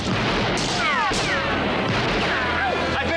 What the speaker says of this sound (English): Why are you shooting that thing at us?